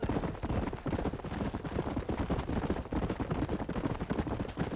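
A horse gallops in Red Dead Redemption, its hooves pounding in a fast, loud, rhythmic clip-clop close by, with sharp gunfire bursts mixed into the drumming.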